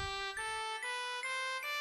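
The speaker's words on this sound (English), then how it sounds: "Now it sounds like trumpet and bells." Electronic keyboard organ set to a trumpet-and-bells voice, sustained bright tones with a ringing bell-like attack, several chord changes in quick succession, clear and steady.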